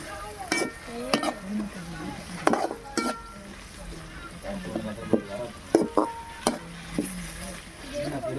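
Hot oil in a pan sizzles with frying, a steady crackling hiss punctuated by sharp clanks and stirring knocks from utensils against the pan, with someone speaking nearby at moments.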